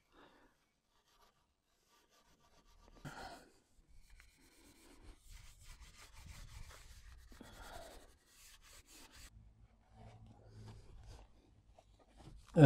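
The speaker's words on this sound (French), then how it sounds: "on peut l'attaquer avec une laine d'acier" Steel wool scrubbing a chrome exhaust, intermittent rough rubbing strokes of moderate loudness with short pauses between, close by and without talk.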